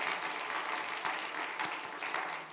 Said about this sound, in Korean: 박수로 한번 감사합니다.